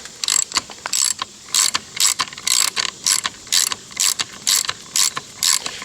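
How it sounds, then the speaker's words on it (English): Ratchet wrench loosening the bar end weight bolt on a Honda Africa Twin CRF1000L motorcycle handlebar: a steady series of about a dozen close, loud clicking bursts in even rhythm, without talking. "But to take this bolt out of the end right here, so we'll remove this to take off the bar end weight."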